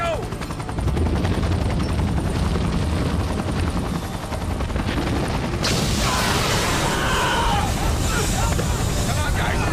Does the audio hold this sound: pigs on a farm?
no